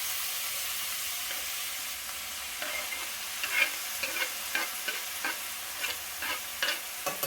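Chopped spinach sautés in a pan with a soft, steady sizzle, while a utensil scrapes and taps as it stirs, giving a string of light irregular clicks over the frying hiss.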